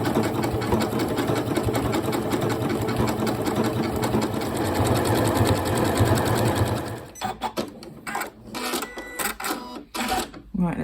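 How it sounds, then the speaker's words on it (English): A Janome Horizon Memory Craft 9480 QC Professional sewing machine stitches a decorative heirloom stitch with a wing needle, running as a steady rapid mechanical whir before stopping and giving way to quieter handling clicks. "we're going to focus on sewing on this side, and we're going to use an heirloom stitch"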